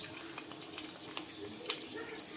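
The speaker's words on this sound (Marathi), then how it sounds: "अशा सर्व पुऱ्या आपण तळून घेणार आहोत" Puris for pani puri frying in hot oil, a quiet, steady sizzle with faint crackles and a few soft pops throughout.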